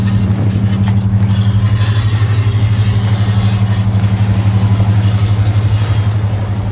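International Travelall driving with a bad mechanical fault, a loud steady low drone with a fast rhythmic knocking pulse running throughout, close and continuous with no talk.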